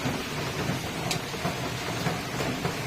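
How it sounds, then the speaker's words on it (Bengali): Steady heavy rain pours down without a break during a wet Sunday, a dense continuous hiss with faint drips and patters on a nearby surface, and no voices. "বেশ ভালো জোরে বৃষ্টি হচ্ছে"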